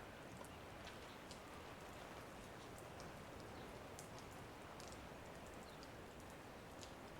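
Soft, steady drizzle patters continuously in Yeşilköy, Istanbul, a faint hiss of fine drops with occasional tiny ticks, no voices.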